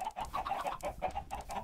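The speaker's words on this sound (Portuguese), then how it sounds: "Aqui estão minhas galinhas e uma vaquinha" Minecraft chickens clucking in a pen beside a cow, a rapid run of close, overlapping clucks in a steady rhythm with no talking.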